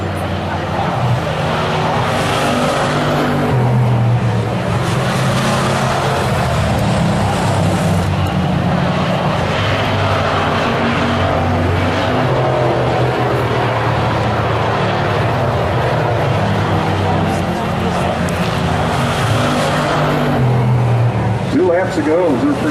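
Hobby stock race cars circle South Sound Speedway during a heat race, engines droning steadily and swelling as cars pass, loud and continuous throughout with a commentator talking over the roar.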